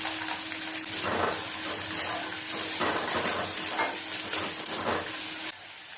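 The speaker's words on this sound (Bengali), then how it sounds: "দিচ্ছি এখানে তেল, দিয়ে দেবো এখানে পেঁয়াজ কুচি" Chopped onions hit hot oil in a pan for a fish dish, giving a close, steady sizzle and crackle with occasional stirring scrapes throughout.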